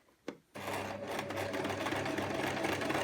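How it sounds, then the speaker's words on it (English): A sewing machine starts after a brief click and runs steadily, a fast continuous mechanical whir of backstitching on a skirt, close and loud. "So we'll just pop that in the sewing machine as we did before"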